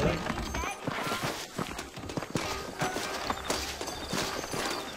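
Horse hooves clip-clop in a steady walking rhythm amid rustling and mechanical clatter, with voices murmuring faintly underneath, in the video game Red Dead Redemption.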